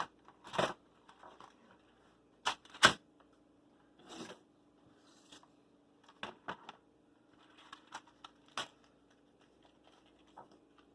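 Keycaps are pushed off a computer keyboard by hand, giving sparse, sharp plastic clicks and snaps at irregular intervals, some louder than others, in a quiet room.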